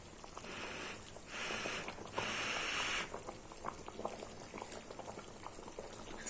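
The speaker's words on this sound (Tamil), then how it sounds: "நல்லா கொதிக்குது." Vegetable ball curry bubbles and gurgles steadily in a pot at close range, soft popping bursts over a low simmering hiss.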